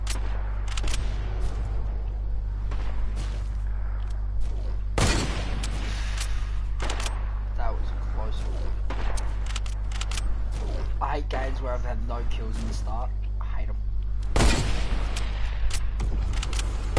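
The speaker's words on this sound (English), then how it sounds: "He's shooting at me." Gunfire in an online shooter video game, scattered shots and a few louder bursts over a steady low hum, with a voice talking through much of it.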